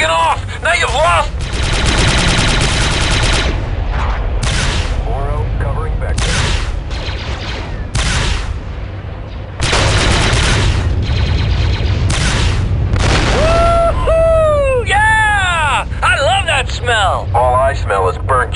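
Gunfire and explosions from Star Wars Republic Commando: loud bursts of rapid shots and heavy booms fill the scene, with a whooshing sweep late on, all close and sustained throughout.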